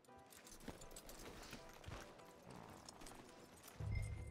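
Horse hooves clip-clopping in the video game Red Dead Redemption 2, faint irregular hoof thuds at a walk under a low murky background, ending in a louder low rumble.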